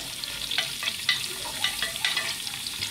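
Onion and garlic frying in a pressure cooker pot, with a steady soft sizzle and crackle and occasional stirring scrapes, moderately quiet and without talk.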